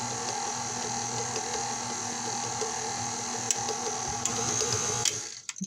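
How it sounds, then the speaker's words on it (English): An electric mixer whirring on low speed through strained cooked potatoes, a steady mechanical drone with a constant hum and small ticks, stopping abruptly near the end. "We're just going to put them on low and mix them just a little bit."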